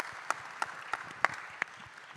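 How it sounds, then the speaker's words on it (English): Sparse, faint applause from a conference audience for a keynote speaker at an urban health event: a handful of separate, evenly spaced claps over a soft room hush, with no talking. "First of all, I want to give a big round of applause to our keynote speaker for that amazing setup."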